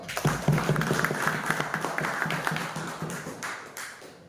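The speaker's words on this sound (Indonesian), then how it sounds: "Oke, tepuk tangan dulu dong." Audience applause at an open plenary meeting of the Manokwari Selatan regional election commission, a steady patter of many hands clapping that fades gradually over about four seconds.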